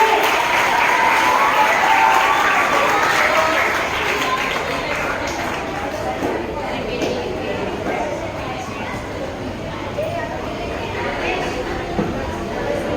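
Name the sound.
children applauding at school prize giving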